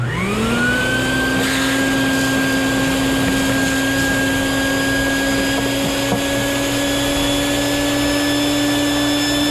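A vacuum cleaner starts up with a rising whine and then runs steadily and loudly, a constant motor drone with a high tonal hum throughout.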